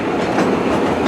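The Disneyland Railroad train rolls along its track with a loud, continuous rumble and rhythmic clatter of wheels, heard close up from on board with no talking.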